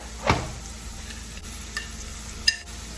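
Food frying in a pan with garlic powder gives a faint steady sizzle, broken by a few soft scraping stirs and light utensil taps, quiet and close.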